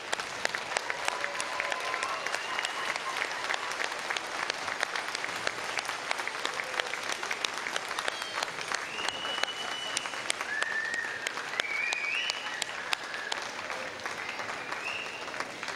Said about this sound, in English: Join me in giving them an enthusiastic round of applause